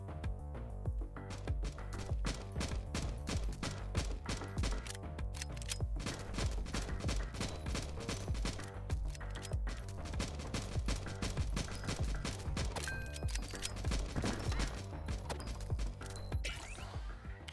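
Rapid pistol gunfire from the NIMRODS: GunCraft Survivor video game, a dense, steady stream of loud shots and mechanical clatter running the whole length under busy game sound effects.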